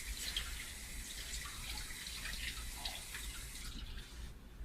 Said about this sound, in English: Gotta wash those hands.